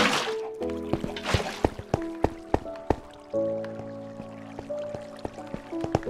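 Minecraft water sounds as water is poured into a dry well in the game: repeated short drips and splashes with a sloshing liquid fill, moderately quiet and close, without speech.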